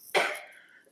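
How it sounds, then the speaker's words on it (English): A woman gives a single sharp cough that trails off over under a second, close and fairly loud, with no talking. "Excuse me, no time to start coughing."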